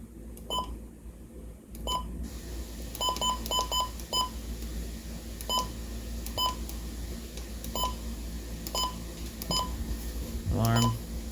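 Emergency alert system alarm tones for a severe thunderstorm warning: a string of repeated electronic beeps over a steady background, ending in a brief rising tone, with voices murmuring underneath.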